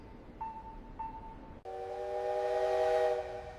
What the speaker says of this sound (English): The train is arriving on the platform right now.